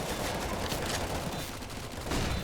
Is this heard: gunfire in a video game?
yes